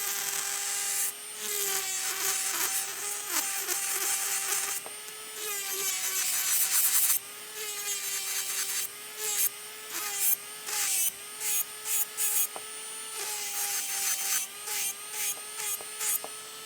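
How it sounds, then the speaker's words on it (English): A Medicool Pro Power 520 electric nail file whirs steadily at a high pitch while sanding gel polish off a gel nail, with gritty rasping rising and falling as the bit presses in and lifts off. "let me show you what this is like when you're actually filing with it. So here's a gel nail with some gel polish on top"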